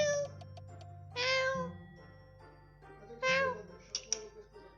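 A cat meows twice, close and clear, each call drawn out over a quieter background of soft tones and clicks.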